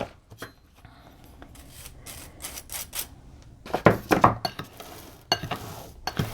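A spoon scrapes and clinks against a bowl, stirring dry citric acid and baking soda. The taps are irregular, soft at first, then come in louder clusters of clatter.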